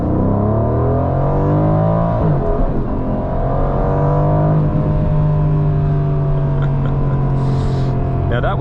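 A 2021 Aston Martin Vantage Roadster engine revs hard and climbs through the gears, pitch rising and dropping at each shift, loud and close throughout.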